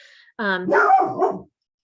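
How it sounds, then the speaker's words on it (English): A single loud dog bark, a sharp close woof with a rough harmonic edge, rising out of a quiet indoor room and ending abruptly. "my dog decided to bark at something that she saw."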